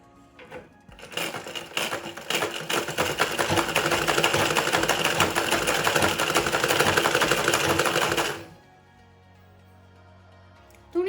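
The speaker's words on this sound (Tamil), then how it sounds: "இப்போ வந்து அளவு இல்லாமல் சும்மா நம்ம இந்த பக்கமும் அந்த பக்கமும் தைக்க போகிறோம்" A sewing machine stitching fabric in a basic tailoring lesson runs steadily with a fast, even mechanical whir and clatter for about seven seconds, then stops, leaving a quiet room.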